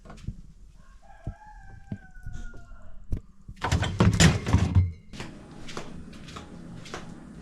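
A rooster crows loudly in the middle of chickens at feeding time in Baja California Sur, Mexico, with scattered clucks, a creaking door and a few thuds around it.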